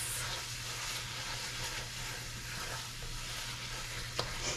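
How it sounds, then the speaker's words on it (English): Curry paste being stirred into onions in a soup pot for vegetarian curried pumpkin soup, giving a steady close sizzle and hiss with soft scraping throughout and a brief knock near the end. "just add that right into your pot. Get it all stirred in with the onions."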